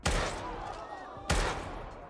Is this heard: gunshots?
yes